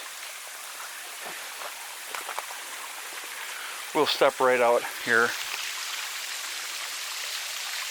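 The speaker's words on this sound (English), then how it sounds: "And then the water's flowing, and it continues on its journey." Steady rushing water from a waterfall and flowing stream fills the whole clip as a constant broadband wash, with someone talking briefly over it near the middle.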